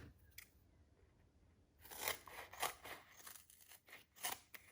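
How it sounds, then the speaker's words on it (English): Basic scissors cutting through paper during card making, a run of crisp snips and crunchy cuts that starts after a quiet stretch and repeats irregularly, close and fairly soft. "I'm actually going to cut that just with some fairly basic scissors"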